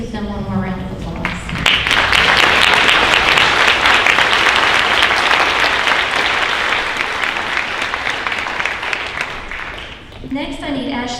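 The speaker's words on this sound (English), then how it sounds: "Give them one more round of applause" Audience applause at a high school senior honors night, a dense, loud burst of clapping that swells after a brief pause, holds steady for several seconds, then tapers with voices returning at the end.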